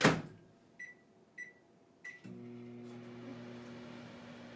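A microwave oven beeps three times in even succession, then its hum starts up and runs steadily while melting something for an edible manger, close and fairly quiet, with no talk.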